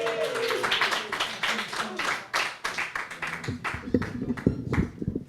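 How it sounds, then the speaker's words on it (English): Pub audience at a storytelling and open-mic night clapping for the next performer, scattered lively applause with a few whoops, then a voice begins speaking over the last claps. "Give me a big round of applause."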